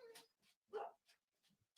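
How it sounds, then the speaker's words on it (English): Dogs whining and whimpering in a few short, faint bursts spread across a quiet stretch, with soft yelps between them. "I don't know what the dogs are complaining about."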